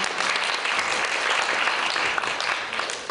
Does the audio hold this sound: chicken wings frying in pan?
no